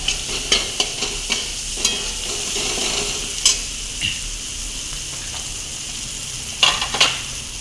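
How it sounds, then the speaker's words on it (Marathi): Wet green peas stir-fry in a pan for vada pav filling, a soft continuous sizzle broken by repeated scraping clicks of a spatula against the pan, close and moderate in level. "वटाणे पण छान परतून नरम करून घ्यायचे आपल्याला"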